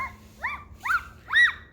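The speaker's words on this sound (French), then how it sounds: "Scooby, on jappe pas." Three short, high-pitched dog yips come in quick succession, each a little louder than the last, close by with quiet background.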